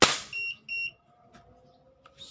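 A Crosman 1377 air pistol, pumped ten times and loaded with a 0.46-gram Berner Match Pro pellet, fires one short, sharp pop, followed by a pair of high electronic beeps.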